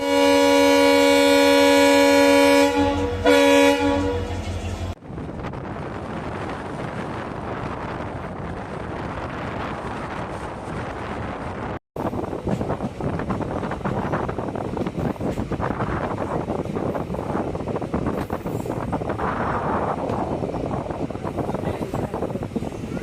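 The Madurai passenger train sounds its horn, a loud sustained tone held for a few seconds, then keeps running with a steady rumble and wind rushing past.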